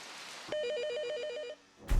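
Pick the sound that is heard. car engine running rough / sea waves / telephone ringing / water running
telephone ringing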